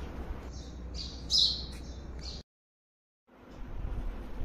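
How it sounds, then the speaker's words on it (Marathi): A few sharp house sparrow chirps close by as a parent feeds its fledgling, followed by a brief silent gap and then quiet ambient noise. "चिमणीने परत एकदा तिच्या पिल्लाला छानपैकी खाऊ दिला आहे"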